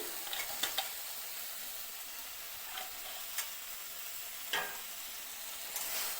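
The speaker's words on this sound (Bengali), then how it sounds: "এবার দিয়ে দিব ভাজা করা বড়ি" Fried lentil dumplings are stirred into a raw banana shukto curry as a constant sizzle runs beneath sharp, scattered clinks of the spoon against the pan.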